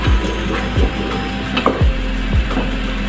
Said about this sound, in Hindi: कीमे को टमाटर के साथ भूनेंगे